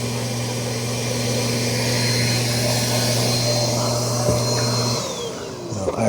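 Narwal Freo Z10 Ultra robot vacuum station running while blocked with hair, a loud steady droning motor hum with a strained tonal whine that shifts pitch near the end.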